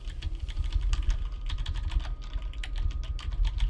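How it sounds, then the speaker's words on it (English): Rapid, dense computer keyboard typing with keys hammered repeatedly, a steady near clatter of many clicks throughout and no voice. "Sorry about my keyboard, but I have to spam it."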